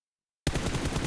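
Sudden burst of rapid automatic gunfire in PUBG Mobile, a close, loud spray starting after brief silence and continuing steadily to the end.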